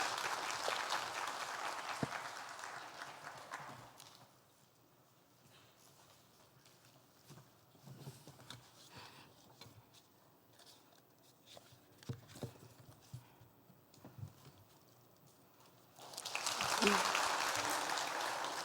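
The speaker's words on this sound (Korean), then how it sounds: "우리 집사님 나올 때 한번 큰 박수로 환영해 주시겠습니다." A church congregation applauding to welcome a deacon up to speak: a burst of clapping at the start, then quieter shuffling and footsteps, then another swell of applause near the end.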